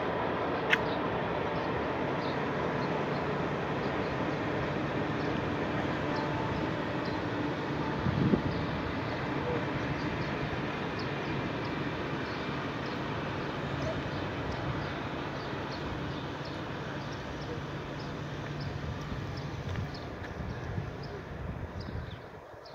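A long freight train passing, a steady dense rumble and clatter of wagons rolling by for over twenty seconds at moderate level, with brief faint voices.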